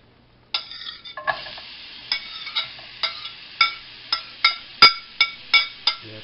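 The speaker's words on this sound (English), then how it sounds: "Alright, time to throw the onions in." Onions hit a hot pan for budget fajitas, setting off a bright steady sizzle punctuated by a rhythmic series of sharp metallic scrapes and clinks from a utensil stirring, close and fairly loud, without talk.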